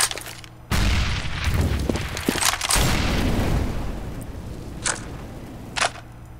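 Grenade blast in Counter-Strike on de_mirage, a sudden loud boom that rumbles and decays over a couple of seconds, followed by two short sharp clicks later, with no talk.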